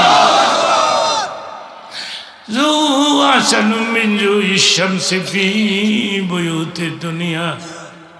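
A large crowd at a Bengali religious sermon gathering answers a takbir call with a loud, massed chant, sustained voices swelling after a brief pause and carrying on in rhythmic waves.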